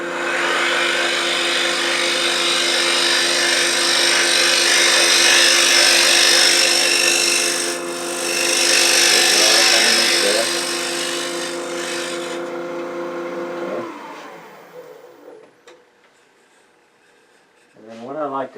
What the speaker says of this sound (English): I'm going to take a scraper and kind of smooth the walls a little bit